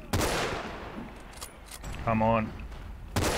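Gunfire in the World War II shooter Forgotten Hope 2, with sharp broadband shots at the start and end of the clip. A player speaks briefly in the middle.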